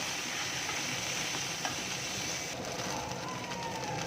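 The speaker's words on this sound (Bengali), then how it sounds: "ক্যারি পাতাটা দিয়ে হালকা আমি নাড়াচাড়া করে নেব।" Curry leaves and dried chillies sizzle in a hot pan as they are stirred, a steady, close frying hiss with faint scraping underneath.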